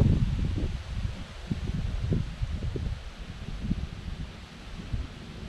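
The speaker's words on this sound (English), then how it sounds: "I apologize for this wind." Wind gusting straight into the microphone outdoors, a close, steady low rumble with buffeting bursts that swell and fade throughout.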